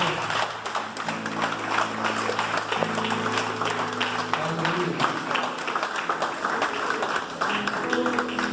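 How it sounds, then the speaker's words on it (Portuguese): A church congregation applauds during a worship service, steady sustained clapping with sustained keyboard or music tones beneath it, continuing at a fairly even level. "vamos aplaudir o Senhor"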